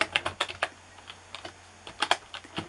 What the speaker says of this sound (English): if you are typing and you press the Enter key on your keyboard